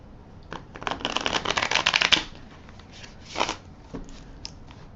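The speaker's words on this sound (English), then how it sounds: "I will shuffle again. And rifle the cards one more time." A deck of tarot cards is riffle shuffled up close, a crisp fluttering burst of interleaving cards followed by a couple of shorter riffles and light taps as the deck is squared.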